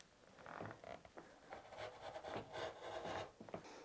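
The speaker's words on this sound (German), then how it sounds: "Ich möchte Jelly Roll Streifen zuschneiden und wir schneiden." A rotary cutter slices through stacked jelly roll fabric strips for patchwork, giving quiet, close rasping strokes that repeat in a steady rhythm with no voices.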